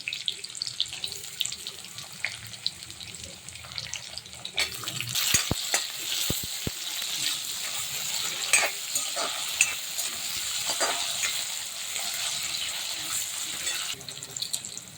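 Tomatoes dropped into very hot oil with onion for a spicy eggplant bhaji. A quiet hiss bursts into a loud, crackling sizzle partway through, then settles into a steady frying sound with occasional stirring clicks.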